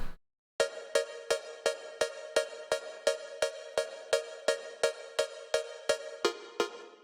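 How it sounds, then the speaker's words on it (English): A Serum synth pluck preset panned left, played as a steady run of about eighteen evenly spaced bright plucks, each decaying quickly with a delay tail, loud and alone with no voices. "This is the first pluck."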